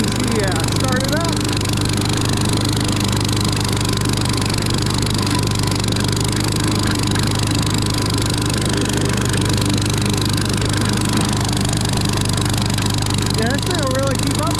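A Briggs & Stratton small engine on a John Deere mower runs loud and close with a constant, steady drone, while voices talk over it.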